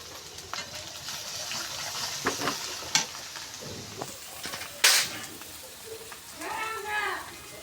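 Water is poured into a sizzling pot of tangra fish curry with taro. Scattered clinks and stirring clatter come first, then a brief gushing pour and a hiss near the end, while a voice talks faintly.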